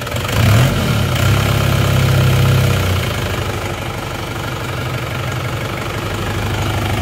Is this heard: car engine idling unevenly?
yes